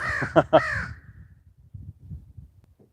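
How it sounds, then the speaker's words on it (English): A crow caws twice in quick succession, loud and close outdoors, followed by faint low rumbling and quieter background sounds. "Crow."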